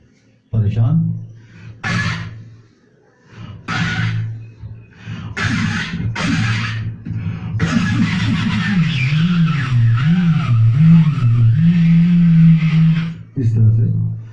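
A voice imitates a car's self-starter cranking in several short bursts with pauses, then a longer wavering engine-like drone as the imagined car starts.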